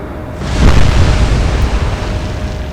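A warship's naval guns fire and a shell bursts in the naval combat game Atlantic Fleet, a loud rumbling boom that swells quickly and rolls on as a dense, noisy roar for a couple of seconds.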